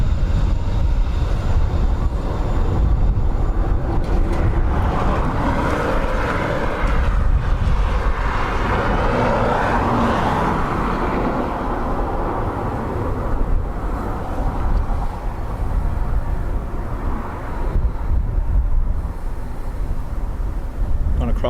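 Ryanair airliner arriving from Cluj lands at Dublin Airport in possible crosswinds, a steady broad jet roar holding throughout, loud and fairly close, with a voice talking over it.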